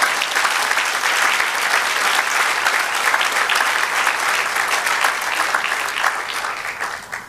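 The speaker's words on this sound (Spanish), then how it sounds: "Dele un aplauso al Señor." A church congregation gives sustained, dense applause during a Spanish-language sermon, loud and continuous for several seconds before tapering slightly at the end.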